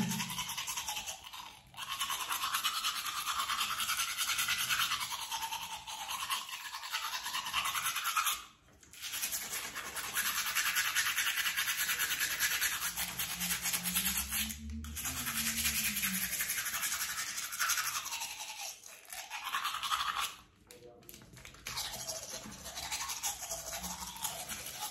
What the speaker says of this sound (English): when brushing my teeth